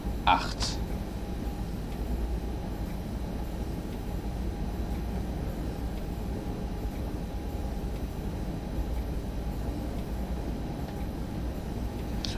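Steady low rumble of a BR 101 locomotive hauling a Europa-Intercity on the Hamburg–Lübeck line in Train Sim World 2, running continuously at an even level with a brief high squeal near the start.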